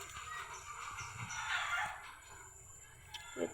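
Chickens and a rooster sound faintly in the distance, with a crow rising and fading over soft background hiss.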